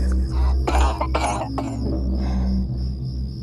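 Several harsh coughs come in a quick cluster up close, followed by a fainter cough, over a steady low hum and chirping insects.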